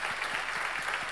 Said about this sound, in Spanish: les pido otro aplauso y energía a todos para ellos